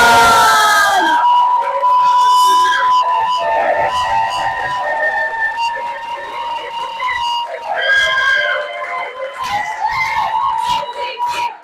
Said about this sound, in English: let's give a huge round of applause for Yana and Simon!